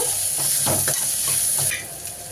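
French fries frying in hot oil, giving a steady, close sizzle with a few soft stirring scrapes, and no voices.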